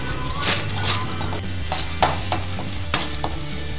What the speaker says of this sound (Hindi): ये हिलाते रहना ताकि ये हमारा मसाला जले नहीं